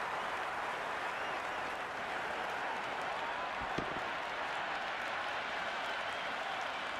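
Crowd in the cricket video game Cricket 26, a steady wash of distant applause and cheering that holds at an even level for the whole stretch, with one brief thump near the middle.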